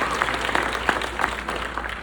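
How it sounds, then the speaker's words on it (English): A dinner audience at a Henry County Public Schools graduate recognition evening bursts into dense, steady applause of many hands, even and sustained for about two seconds with no voices standing out. "Let's give them a round of applause."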